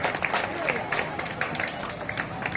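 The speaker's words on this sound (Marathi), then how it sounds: "त्यासाठी देखील आपण जोरदार टाळ्या देऊया" Applause from an audience at a primary school's annual gathering in a hall, a steady wash of many hands clapping under a voice speaking.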